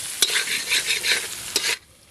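Tomatoes tip into a pan of frying spiced masala for a cauliflower and potato curry, giving close bursts of sizzling and stirring before the sound drops away almost to quiet.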